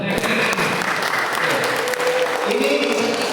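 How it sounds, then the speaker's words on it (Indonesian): An audience at a religious talk and presentation claps together in a loud, steady burst of applause that fills the room for a few seconds, with voices faintly mixed in. "Tepuk tangan."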